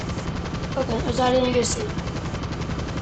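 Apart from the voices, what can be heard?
Avenger VTOL aircraft engine in GTA V video game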